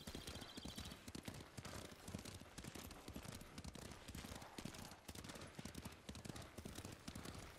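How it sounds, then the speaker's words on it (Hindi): A horse gallops in the video game Ghost of Tsushima, its rapid hoofbeats pounding in a quick steady rhythm amid busy in-game ambience, fairly quiet throughout. "क्या चल रहा है घोड़ा, मतलब भाग रहा है."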